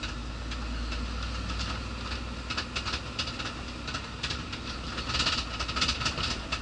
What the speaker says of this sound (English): just about to run it across the old weigh scale, check that it's empty